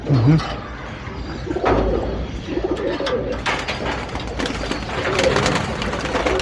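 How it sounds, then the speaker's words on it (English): Flying pigeons cooing at a pigeon loft in India, soft repeated coos and a few chirps close by, with scattered bumps and rustling throughout. "This my flying pigeon."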